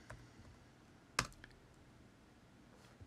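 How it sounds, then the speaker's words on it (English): A single sharp keystroke clicks on a computer keyboard, faint and brief, over a quiet background with a few softer taps around it. "If I change this by typing on my keyboard"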